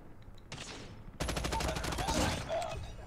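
The RUS automatic rifle fires in Call of Duty Mobile during a Cranked match. A single sharp shot comes first, then a loud, rapid continuous burst close up.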